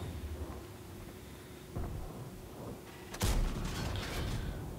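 The FV217 Badger tank destroyer's gun fires once in a tank video game, a single loud blast followed by a rumbling tail over steady low battle ambience.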